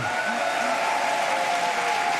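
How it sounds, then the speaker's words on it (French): Sustained audience applause greets a guest on a French television show, dense and steady from start to finish, with a brief voice rising near the start. "Je vous demande d'applaudir bien fort Olivia Gazalet."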